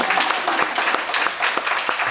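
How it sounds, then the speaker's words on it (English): Audience clapping at a ribbon cutting ceremony for a business opening in Portsmouth, Virginia, a steady burst of many hands close by, lasting about two seconds without talk. "It's okay to clap,"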